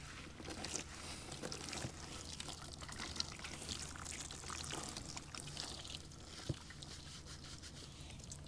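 Water is poured and splashed inside a van in Florida while someone washes their face, with soft, irregular trickles and splashes that stay fairly quiet and close.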